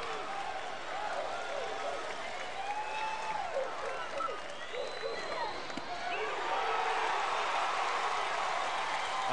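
Baseball stadium crowd at a 2005 SEC Baseball Tournament championship game, cheering and applauding in a broad continuous roar that swells louder toward the end, with a commentator's voice faintly over it.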